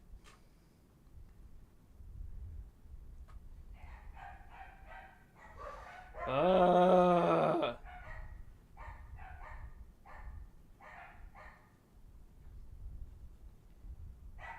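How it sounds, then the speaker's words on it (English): A dog gives a burst of loud yipping barks that lasts about a second. Before and after it, fainter clusters of barking come from farther off, and someone murmurs briefly. "they start barking for no reason"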